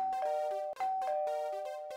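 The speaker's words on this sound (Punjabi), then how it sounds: "ਇਹ ਆ ਮਾਰਤੀ ਘੰਟੀ।" A cartoon doorbell rings in a clear, bright electronic chime, several ding-dong tones in quick succession, close and alone with no voices.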